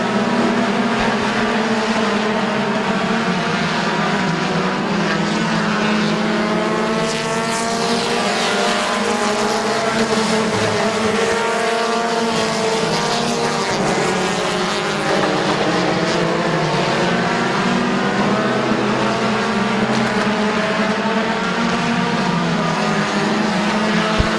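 Race cars roar around the oval at Midvale Speedway in a steady, loud, continuous engine drone with shifting pitch as the pack circles, and no talk over it.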